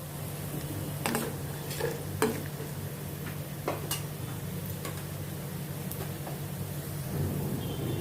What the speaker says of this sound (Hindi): प्याज के साथ इसको भी सौते करती हूँ।